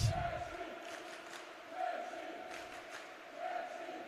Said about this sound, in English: the Czech crowd is just going to keep going